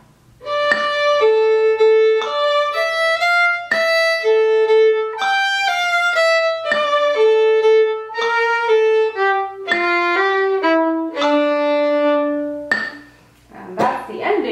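A solo fiddle plays the closing phrase of the B part of a tune, a string of clear bowed notes shifting steadily in pitch, close and loud, with a short gap near the end.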